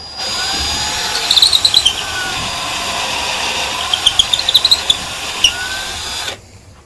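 An electric drill bores out an undersized hole in a DIY ferro rod handle, whining steadily for about six seconds with clusters of sharp chattering bursts as the bit bites, then cutting off abruptly.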